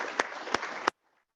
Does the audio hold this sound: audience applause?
yes